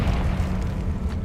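A Confringo blasting spell going off in Hogwarts Legacy, a short deep boom with crackling rumble that fills the moment at moderate loudness, no speech.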